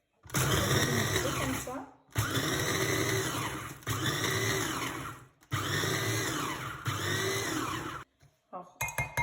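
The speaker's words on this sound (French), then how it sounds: "Je vais bien les mixer." A kitchen blender whirs loudly in several long bursts, mixing speculoos ingredients for dessert verrines, each run stopping briefly before starting again; a voice speaks briefly near the end.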